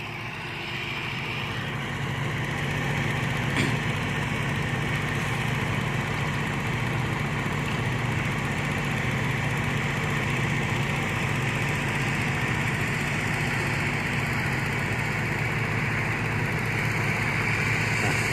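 Farm tractor engine running steadily, a continuous close droning rumble with a buzzing mechanical tone that holds at an even level throughout, with no talking.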